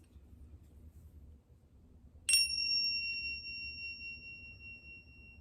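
A set of small bells rung to open a children's Godly Play lesson gives one bright struck ding that rings on in clear sustained tones, heard alone over a low room hum.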